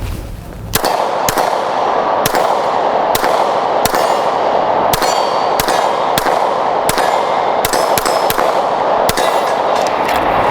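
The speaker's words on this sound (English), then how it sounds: "let's go ahead and take a couple shots now with the light on there and see how that feels" Daniel Defense H9 pistol with a light mounted, firing roughly a dozen sharp, loud shots at a steady, fairly quick pace, each crack ringing out over a constant background with no talking.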